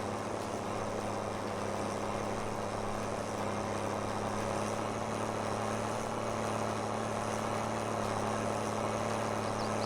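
A tractor engine in need of repair hums steadily in Farming Simulator 22, a low, even drone at moderate volume with a faint tonal whine above it, continuous and free of talk.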